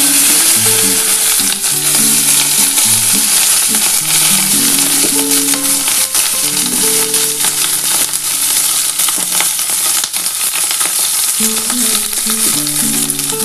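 Okra frying in hot mustard oil, a steady loud sizzle and crackle running throughout with stirring clatter and background music, no voices.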